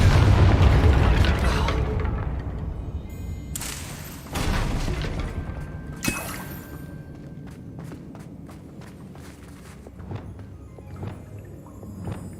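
A booming magical blast from the Confringo spell in Hogwarts Legacy hits hard at the start, then rumbles away into lighter thuds, footsteps and scattered impacts.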